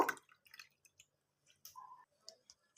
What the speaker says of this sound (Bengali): বাটিতে আমি একটা ছাঁকনি দিয়ে দিলাম ছাঁকনিতে আমি রসটা দিয়ে দেবো লেবু একটু ভালো করে ছেঁকে নেব